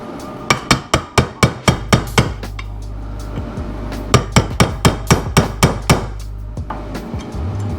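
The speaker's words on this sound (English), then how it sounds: "We're just going to tap that in with our Harbor Freight bearing installer kit." Hammer taps drive a seal home with a Harbor Freight bearing installer kit during a Yamaha YFZ450R water pump rebuild: two loud, close bursts of about eight sharp, evenly spaced metallic strikes with a pause between them.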